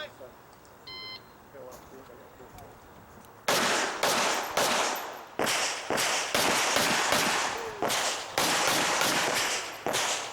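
Pistol shots at an IDPA shooting stage, a rapid string of loud sharp cracks in quick bursts with a brief pause for a reload, preceded by a quieter stretch with a timer beep.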